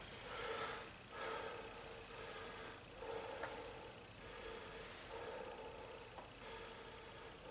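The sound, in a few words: patient taking deep breaths during chest exam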